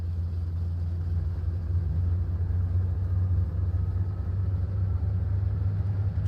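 A SAAB B17 aircraft engine in MSFS 2020 runs with a steady, deep droning hum and low rumble, loud and continuous without change.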